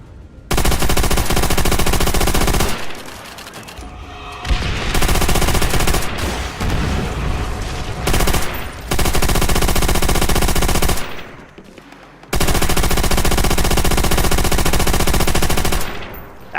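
Rapid automatic gunfire from a gun in a Call of Duty game, loud and close, in several long sustained bursts separated by short quieter gaps with echoing tails and no speech.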